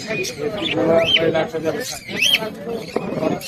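Caged birds at a busy bird market give repeated chirps and rising whistled calls close by, with a constant murmur of people talking and moving around them.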